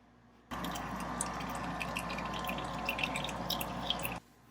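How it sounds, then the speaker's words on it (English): Engine oil drains from the drain plug hole of a fourth-generation Mazda during an oil change, a steady wet trickle of liquid running without pause, close and fairly quiet, with no talking. "oil's starting to drip"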